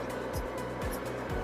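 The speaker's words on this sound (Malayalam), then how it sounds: "അവിടെ വണ്ടി വരുന്നുണ്ട്" A vehicle approaches on a road in Iran, its engine and tyres making a steady, moderately distant rumbling drone with no talk.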